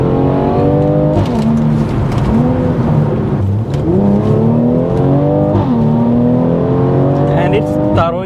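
A Mercedes-Benz C43 AMG W205 with all-wheel drive accelerates hard through several gears, its engine rising in pitch, dropping at each shift and climbing again, loud and close throughout.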